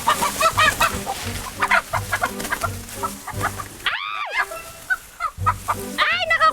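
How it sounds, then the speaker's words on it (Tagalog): Native chickens cluck and squawk in agitated bursts while being chased through a farmyard, rapid repeated calls close by, with a few loud alarmed screeches rising above the commotion. "Maghahabol lang kami ng mga manok"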